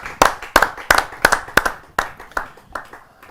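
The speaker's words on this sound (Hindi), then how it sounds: "मैं बुलाना चाहता हूँ विश्वविख्यात ओज के कवि आदरणीय बड़े भाई श्री राजेश चेतन जी को आप सबकी जोरदार तालियों से।" Clapping from an audience at a Hindi poetry open-mic gathering welcoming a poet to the stage, a handful of loud, close, distinct claps in an uneven rhythm, growing softer and sparser toward the end.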